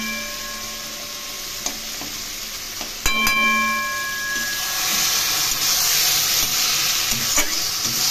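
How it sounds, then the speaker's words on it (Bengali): Spices with turmeric and salt sautéing in a hot pan for a taro leaf and hilsa fish head dish, a loud continuous sizzle and hiss with a few sharp stirring clinks, growing louder midway. "এগুলো মশলাগুলো একটু কষিয়ে নেব।"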